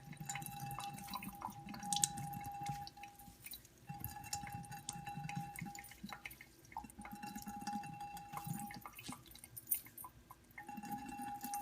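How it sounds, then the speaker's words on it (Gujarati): Whey drains from chhena curds set for sandesh: a faint, quiet run of water drips and soft trickling over a low steady hum. "એની અંદરથી આપણે બધું પાણી કાઢી નાખવું છે।"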